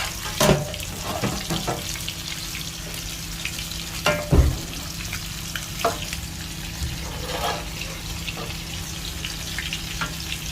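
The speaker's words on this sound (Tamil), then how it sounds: "அப்படியே அது மேலே மீன் வறுத்துக்கிட்டு இருக்கிறோம்" Fish frying in a pan for a Mayavaram fish curry meal, a steady hiss of oil with a few sharp clatters and knocks, close by, no talking.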